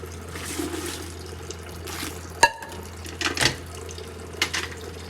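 Water runs from a tap into a container with a low steady flow, punctuated by a few clanks and knocks of metal vessels nearby.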